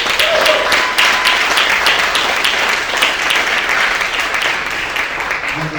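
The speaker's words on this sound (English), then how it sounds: "can we get a round of applause for that?" A keynote audience at a search marketing conference breaks into a loud, sustained round of applause that carries throughout, fading slightly toward the end.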